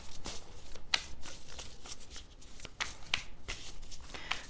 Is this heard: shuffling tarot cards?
yes